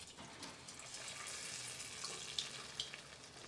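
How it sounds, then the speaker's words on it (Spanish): Beans frying in a hot clay cazuela, a faint steady sizzle with soft crackles and a few small pops, heard close and alone. "Y aquí los voy a dejar que se frían"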